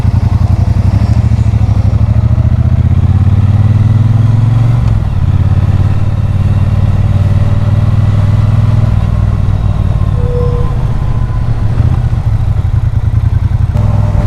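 A Triumph Bonneville Speedmaster motorcycle engine drones steadily at a constant cruising pace in third gear, loud and close, with wind rushing throughout and a slight dip in pitch midway.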